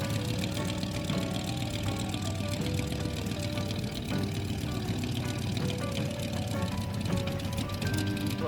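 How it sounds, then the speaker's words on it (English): A hot rod engine running at a car show, a steady, dense mechanical rumble with a rough knocking texture that holds even for the whole stretch, mixed with outdoor crowd noise. "You hear the engine of that bad boy too"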